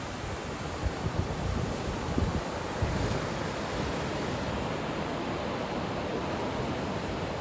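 Ocean surf rolls onto the beach at Bentota, Sri Lanka, a steady broadband wash of breaking waves with some wind, continuous and fairly close, with no voices.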